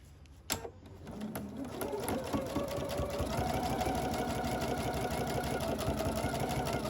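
Sewing machine running steadily to stitch mesh fabric pocket pieces along a marked line, a continuous close mechanical whir after a brief start with no talk.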